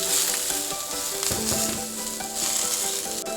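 Onions frying in oil in a pan for chicken tikka, giving a continuous close sizzle with a few scraping stirs and light clinks, no voices.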